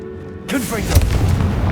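A Confringo blasting spell goes off in Hogwarts Legacy, a sudden booming explosion with a sweeping whoosh and rumbling tail, loud and close, a voice speaking just before the blast.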